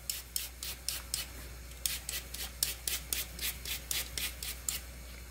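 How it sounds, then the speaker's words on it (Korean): An onion is pushed across a mandoline slicer in a quick, steady series of about twenty rasping strokes, close and fairly soft over a low hum. "양파는 채칼로"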